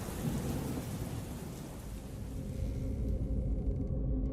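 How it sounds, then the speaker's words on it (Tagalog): Thunder rolls through a heavy rainstorm, a deep continuous rumble layered over dense, steady rainfall that stays loud and close throughout, with no voices. "Nakakagulat ang kulog."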